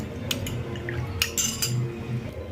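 A spoon mixes mango flavour powder into payasam, giving a few light metallic clinks and taps against the vessel over a soft, steady background hum.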